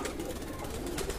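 Soft, low cooing of pigeons nearby, a continuous murmur of throaty calls with no talking.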